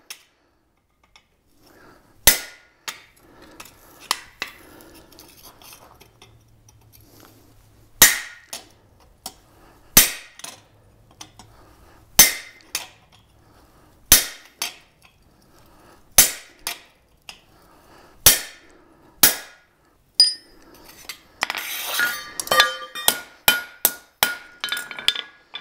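Sharp, ringing hammer blows strike a hot steel horseshoe on an anvil while a horse head is forged, landing in irregular bursts with pauses between, then a rapid flurry of lighter taps near the end.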